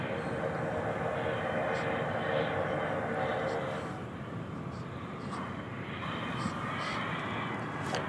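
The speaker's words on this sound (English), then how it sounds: "We have a Martinair, a Cessna 208B Sober Cargo Master, coming in from Abilene, Texas." A Martinair Cessna 208B cargo plane arrives at DFW Airport at night, its engine a steady distant drone that dips slightly midway, with a voice faintly present underneath.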